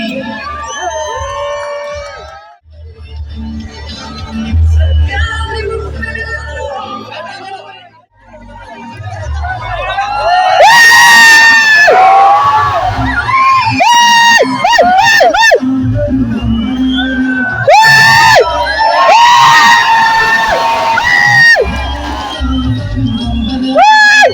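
A large crowd cheering and whooping at an elephant procession in Asramam, Kollam, loud and close, with rising waves of shouts, whistles and babbling voices, one swelling roar after a brief dip.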